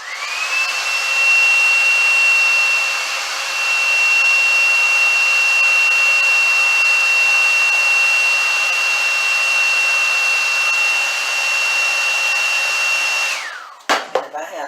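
A hair dryer blows steadily at close range with a constant high whine, running without pause before cutting off abruptly near the end.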